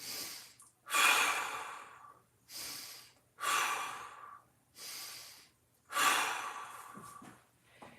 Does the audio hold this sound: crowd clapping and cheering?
no